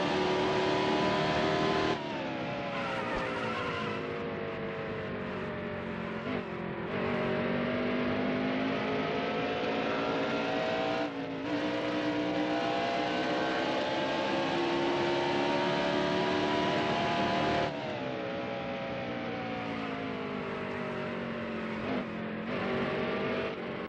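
NASCAR race car engine at New Hampshire in NASCAR Heat Evolution, a loud, continuous high-revving whine rising through each straight and dropping sharply at shifts and corners, with no talking.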